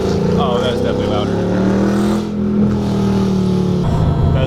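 A 2016 Mustang GT V8 with longtube headers and an MBRP Street free-flowing exhaust rumbles close and loud, holding a steady deep drone with slight rises in revs, while people talk over it.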